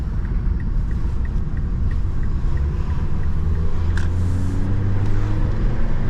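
A 2005 Mazda 3 with a damaged transmission pan drives around town, a steady interior engine and road rumble with a faint repeating tick and a brief higher whine near the middle.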